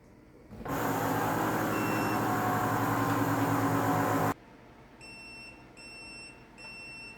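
A loud, steady mechanical whir runs for several seconds, then cuts off, followed by a few soft high beeps at regular intervals.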